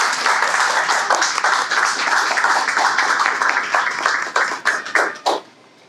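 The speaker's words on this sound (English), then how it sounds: "please give a round of applause for the founder of Wide Roots and certified Italian wine ambassador" A room of people gives a round of applause at an Italian wine event, loud and close with distinct individual claps, holding steady before thinning into scattered hands and stopping abruptly at the end.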